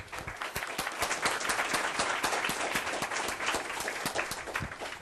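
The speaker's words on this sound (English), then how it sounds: "applause for these wonderful speakers" An audience at a talk on decarbonizing China's electricity applauds the speakers with sustained, dense clapping that holds steady and near for the whole stretch, with no voices over it.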